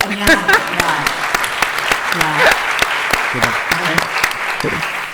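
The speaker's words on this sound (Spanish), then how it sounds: "Otro aplauso." Audience applause at a talk, steady clapping from a crowd in a hall with voices talking over it.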